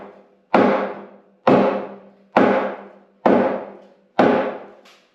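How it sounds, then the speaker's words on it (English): Hammer blows on the front axle of a wooden straw wagon under repair, five loud, evenly spaced strikes about a second apart, each ringing briefly and decaying, with no talk. "I think I'm hitting the front axle now."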